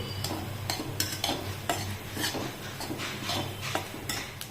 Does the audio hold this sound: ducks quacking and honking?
no